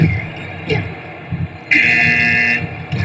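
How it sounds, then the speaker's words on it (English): A sustained electronic buzzer tone sounds for about a second, fairly loud, over the murmur of a crowd and nearby voices. "And we got a buzzer, and coming out."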